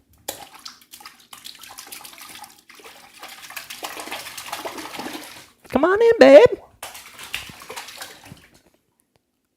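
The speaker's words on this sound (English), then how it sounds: "I'm trying to get splash sounds if you can hear them." Water splashes in a bathtub in one short, close burst in the middle, with a voice speaking before it, over it and after it.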